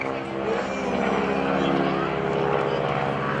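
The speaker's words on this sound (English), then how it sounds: "He's going to roll the airplane upside down" An aerobatic propeller airplane rolls at the 2012 NAS Oceana airshow, its engine a loud, continuous droning roar with a steady tone and a rising pitch, while a voice talks over it.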